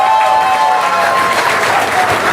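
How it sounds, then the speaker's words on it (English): A crowd claps steadily throughout at a political electorate debate, a dense, loud wash of applause with a faint tonal hum running underneath and no distinct voices. "If I can have a round of applause to Martyn."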